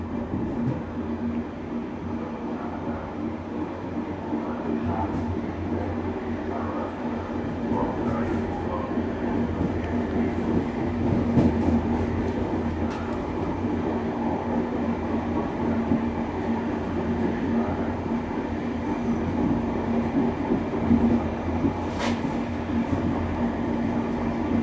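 Passenger train on Hungary's line 40 between Pusztaszabolcs and Budapest, heard from inside the rear car: a steady rumble with rhythmic wheel clicks and squeaks over about twenty-five seconds, fairly loud and close.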